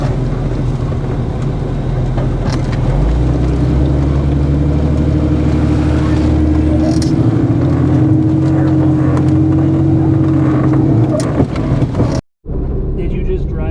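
A Ford F-350 pickup's engine runs in a steady low drone while the truck is tugged out of being stuck, with wind buffeting the microphone throughout and the sound cutting out briefly near the end.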